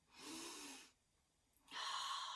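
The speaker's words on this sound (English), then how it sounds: "So let's all take a big sniff." Two deep sniffs drawing air in through the nose, close and fairly quiet, separated by a short pause.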